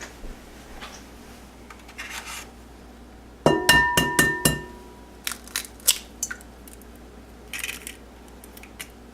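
Eggs are cracked into a large bowl for crème brûlée. A close burst of sharp taps and shell cracks comes mid-clip, followed by lighter clicks and clinks against the bowl, with no talking.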